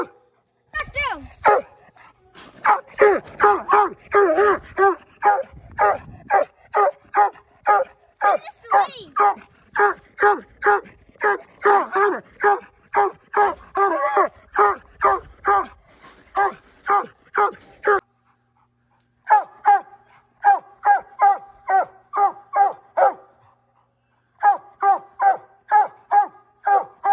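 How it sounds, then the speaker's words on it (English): Rapid, continuous barking from a redtick coonhound pup at a raccoon, nearly nonstop bursts for a long stretch, then a short pause before it resumes in quicker runs. "She's barking at him"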